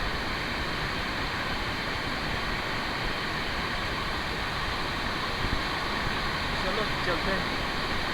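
A steady, loud roar of a rushing waterfall and river near Kedarnath fills the whole clip, with a person speaking a short phrase over it.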